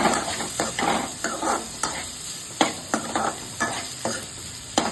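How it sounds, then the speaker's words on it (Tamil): Prawns sauté in butter in a pan, a close bubbly sizzle punctuated by repeated scraping and tapping of a utensil stirring in uneven bursts, with no speech. "நல்லா அந்த பட்டர் இது வரைக்கும் நல்லா சாட்டே பண்ணுவோம்."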